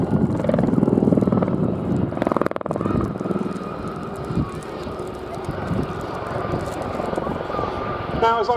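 Westland Gazelle helicopter flying at an air display, a steady rotor and engine roar held throughout at moderate distance, with a commentator talking over it on the public address.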